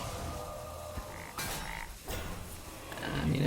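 A toad in the card game Hearthstone croaks as a game effect, with short croaks and chirps over a busy bed of game sound, heard up close and without speech.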